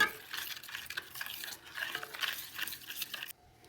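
Mustard paste with water and green chillies is stirred in a container, a soft, continuous wet scraping and swishing heard close but quiet, stopping abruptly near the end.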